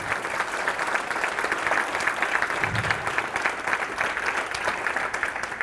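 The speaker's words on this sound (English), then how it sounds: "I just think we need to give another applause to all those food producers that produce that great food." An audience at a dinner event honoring food producers applauds steadily, dense even clapping filling the room at moderate loudness throughout with no voices.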